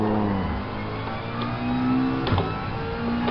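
A Gran Turismo 7 race car accelerates around Spa, its engine note climbing loud and near, with brief dips at gear changes before it pulls again.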